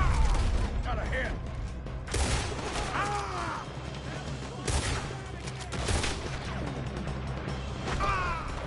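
A Red Dead Redemption 2 shootout: repeated gunshots crack out in sharp bursts among mechanical clatter and shouting voices, some shots close and loud, others further off.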